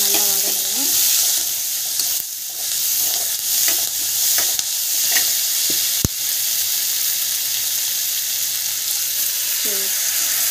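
Ingredients seasoned with rock salt sauté in a pan for a kara kuzhambu. They give a steady, close sizzle with a few soft clinks of stirring.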